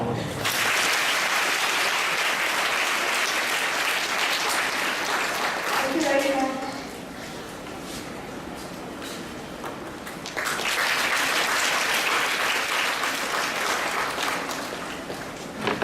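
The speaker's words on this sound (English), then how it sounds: "Please clap for her." Sustained applause from a large school audience at Loreto School Bowbazar, Calcutta, with a brief lull where a voice speaks a few words before the clapping swells again.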